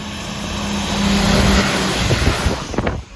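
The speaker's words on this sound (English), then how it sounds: "There are some big timber lorries that use this road and they come flying past" A large timber lorry approaches along a Scottish Highlands road and rushes past close by, its engine noise rising then fading with a whooshing tail, no voices.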